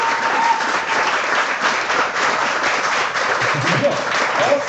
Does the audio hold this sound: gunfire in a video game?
no